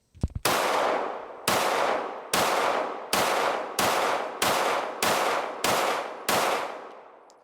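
Nine pistol shots of S&B ammunition ring out one after another at a steady pace of about one per second, each a loud sharp crack with a ringing tail, with no voices.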